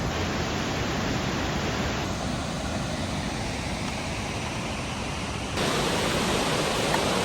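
Far below a cliff-side hiking trail on the Annapurna Base Camp route, a river flows with a continuous, broadband roar that stays steady, rising slightly near the end, with no voices.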